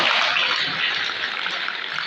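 Crowd applause for Kshitija Hirve at a men's and women's kabaddi selection trial in Palghar district: a dense, steady wash of clapping that holds at an even loudness for about two seconds.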